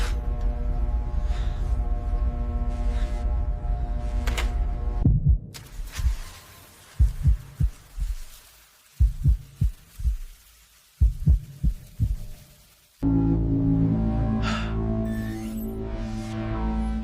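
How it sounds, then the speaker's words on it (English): A synthetic heartbeat sound effect sounds in a sci-fi robot factory scene, heard alone as a series of deep, loud double thumps in an irregular rhythm, set between stretches of sustained humming music. "Heartbeat is active. We have a pulse."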